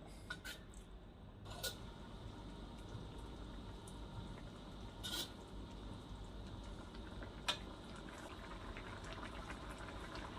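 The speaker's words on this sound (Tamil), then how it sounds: "ஒரு கொதி வந்துடுச்சுங்க" Kuzhambu curry with curry leaves and chilli powder bubbling at a low boil, a steady faint simmering hiss with a few sharp clicks of a utensil against the pot.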